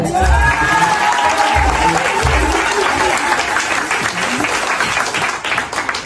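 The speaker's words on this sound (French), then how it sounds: "un peu d'applaudissements" Congregation applause for a pastor at a youth church service: dense, loud crowd clapping that continues throughout, with voices mixed into it at the start.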